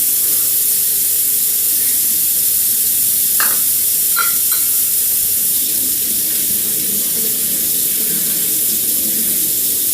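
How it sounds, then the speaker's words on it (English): Water runs steadily from a kitchen tap into a sink as warm water is drawn for a cup measure for edible playdough; a continuous hiss fills the clip, with a few brief clinks near the start. "So let me just run the water here."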